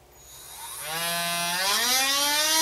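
A small battery-powered grinding wheel trimming tool spins up with a rising whine, its pitch climbing as it starts removing paint from a coated surface, growing louder and steadier.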